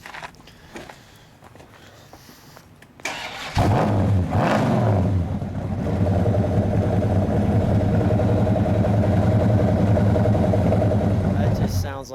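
A 1968 Plymouth Road Runner with a 426 Hemi cranks and fires, then settles into a loud, lumpy idle close by, with people talking briefly before it starts.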